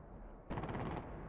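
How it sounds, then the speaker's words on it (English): Aircraft guns firing in a combat flight-sim game, a sudden rapid continuous burst of automatic fire starting partway through over a steady low engine drone, loud and close. "Now I can hear you firing your guns."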